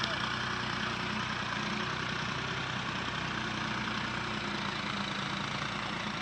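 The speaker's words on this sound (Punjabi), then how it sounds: "ਟਰੈਕਟਰ ਚੱਲਦਾ ਪਿਆ।" A tractor runs in a neighbouring field being prepared for fodder sowing, giving a steady, low engine rumble that stays fairly faint and unchanging throughout.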